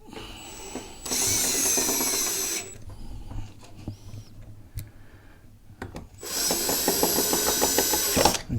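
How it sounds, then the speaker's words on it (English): A power driver runs two loud bursts, whirring and ratcheting as it sets screws into the bottom shroud of a Pride Go Go Elite Traveller Plus mobility scooter, with quieter handling clicks between the runs. "And just 2 more screws underneath for the bottom shroud."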